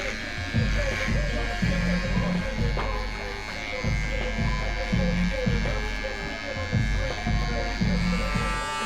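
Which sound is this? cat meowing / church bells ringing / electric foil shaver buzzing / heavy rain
electric foil shaver buzzing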